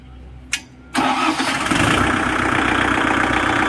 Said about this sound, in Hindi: मैं आपको ट्रैक्टर स्टार्ट करके दिखा देता हूँ